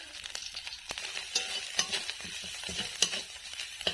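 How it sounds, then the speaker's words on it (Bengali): Spice paste of ground ginger and turmeric sautéed in oil with a spatula for a Bengali vegetarian dish, a close crackling sizzle with repeated scraping stirs in uneven rhythm. "মশলাটা কষে নেব। কিছুটা পরিমাণে শুকনো লঙ্কা গুঁড়ো। ততক্ষণ কষবো যতক্ষণ তেল ছেড়ে আসবে।"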